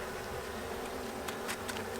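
A dense, steady hum of many honey bees buzzing together close by in an open hive during an April inspection, with a few individual bees droning past near the end.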